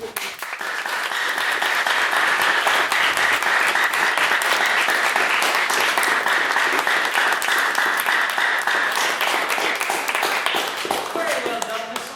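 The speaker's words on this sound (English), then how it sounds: "Can I please get another round of applause for a fantastic maiden speech?" A debate audience gives sustained, loud applause after a maiden speech, dense clapping that stays steady for about twelve seconds before thinning slightly at the end.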